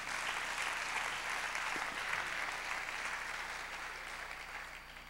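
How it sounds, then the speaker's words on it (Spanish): A church congregation claps together at a midweek service, a broad, even wash of applause sustained throughout, moderately distant and unbroken, with no voices on top. "Dale un fuerte aplauso a Jesús."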